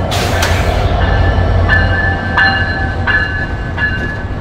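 A train crossing at Tangail railway station in Bangladesh, loud rolling rumble with repeated sharp clanks and ringing metallic squeals at regular intervals, close by and with no talk.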